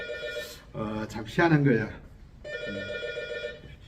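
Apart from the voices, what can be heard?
telephone ringing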